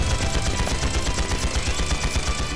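Rapid, sustained gunfire in a Trails into Reverie cutscene: dense bursts of shots crackle in a steady, loud volley for the whole stretch, with no pause.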